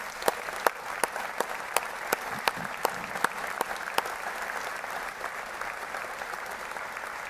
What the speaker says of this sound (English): please give these professionals a round of applause for their hard work